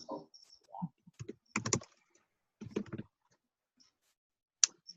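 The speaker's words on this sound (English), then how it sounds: "so just type it in the search box" Keys tapped on a computer keyboard in short uneven bursts of clicks while entering a search, close and fairly faint, with brief speech sounds in between.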